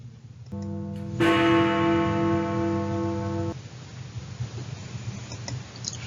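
A clock mechanism swings a hammer against the side of a bell, giving one struck ring joined by a second louder strike, a bright ringing tone with overtones that sustains for a few seconds before cutting off.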